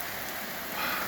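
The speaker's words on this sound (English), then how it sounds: "This is our first rain of the year." Steady rain, the first of the year, falls on surfaces around a greenhouse in an even, dense hiss of drops that stays constant and fairly close.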